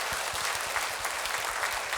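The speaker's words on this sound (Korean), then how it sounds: "우리 하나님께 박수의 영광의 박수를 올려드리겠습니다" A congregation claps together during a Sunday church worship service, a dense, even roar of applause sustained throughout with no voices on top.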